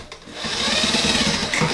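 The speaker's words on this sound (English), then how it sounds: "And I can kind of hit that with my drill a little bit." A power drill bores into a wall to cut in an electrical outlet box, a loud steady whirring grind that runs close up and almost unbroken for just over a second.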